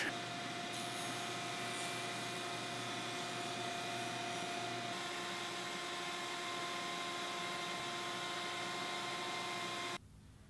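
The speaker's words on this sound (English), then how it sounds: "I'm gonna get a nice straight edge on both mating surfaces at the joiner" A jointer hums with a steady, continuous machine drone as it flattens board edges for a glue-up, even and moderately loud throughout before it cuts off abruptly near the end.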